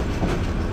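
Hawr Express passenger train running on rails at night as it slows near Tongi Junction, a steady, close rumble of wheels and carriage noise heard from inside the car.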